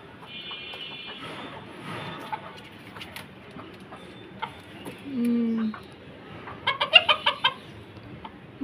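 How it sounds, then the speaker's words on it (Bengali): Chickens clucking on a rooftop, with scattered soft clucks and a louder burst of rapid clucking near the end, close by, while a person talks quietly in between. "মুরগি দেখতে খুব পছন্দ করে"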